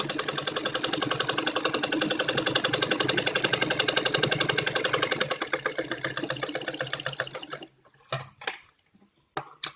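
Net cloth for a Patiala salwar runs through a sewing machine in one long, fast, loud stretch of stitching that stops near the end, followed by a few brief clicks and rustles.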